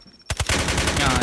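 Rapid automatic gunfire from the mobile shooter game Delta Force Mobile bursts in after a brief quiet lead-in, with dense, loud, continuous shots that stay sustained through the rest of the moment.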